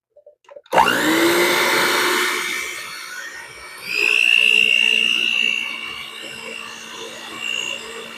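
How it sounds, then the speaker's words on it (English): An electric mixer whirs up abruptly to a loud steady motor drone, its pitch shifting with a rising whine midway as the load changes, running continuously and close with no talking over it. "hopefully you'll hear me and not the mixer"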